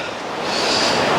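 Atlantic Ocean surf washing over coastal rocks in The Gambia: a close, steady rush of breaking water that swells louder as it surges in, with no voices.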